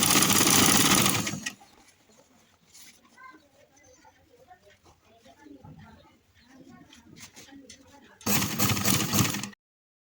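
Sewing machine stitching trousers: a loud, rapid mechanical whirr that starts, stops for several seconds of quiet talk and handling noise, then runs again in a short burst.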